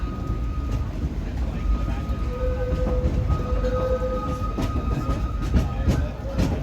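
A Disneyland Railroad train riding along the rails, with a steady low rumble and rolling clatter of wheels, close and continuous, under a faint whine and occasional squeaks.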